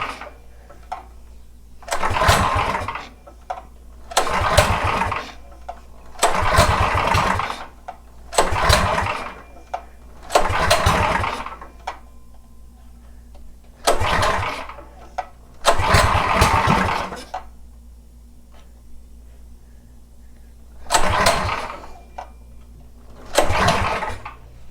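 A Predator 212 Ghost engine on a Manco 458 go-kart is pull-started again and again. Roughly nine loud cranking bursts of a few seconds each are separated by short pauses, with the small engine never settling into a steady run.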